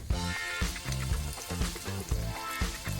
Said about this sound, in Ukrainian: Ось процес обсмажування шкварочок.